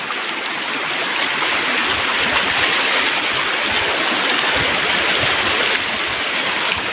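A river flows steadily in a newly shifted channel, a loud continuous rush of water that holds an even level throughout with no voices.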